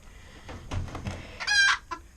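Chickens in a coop let out a few scattered clucks and squawks, building to one louder, drawn-out call near the end, then a short final cluck.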